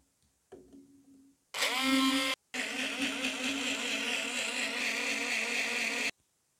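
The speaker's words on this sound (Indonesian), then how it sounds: "Nah, sekarang kita akan blender." A kitchen blender whirs through purple cabbage and a little water for a smoothie: a short low spin-up, then two loud motor bursts separated by a brief pause before it cuts off.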